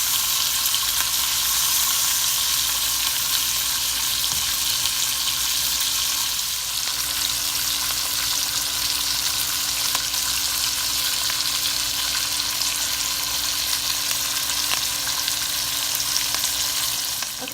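Grouper fillet fries in a pan with lemon juice, giving a steady, loud, close sizzle that hisses evenly throughout with faint stirring or basting movements and no talk.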